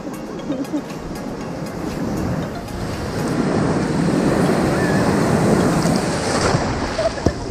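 Ocean surf rolls in with a steady wash of breaking waves, growing louder, along with wind buffeting the microphone, at Qiding Beach, Taiwan.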